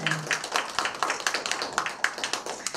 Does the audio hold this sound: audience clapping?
yes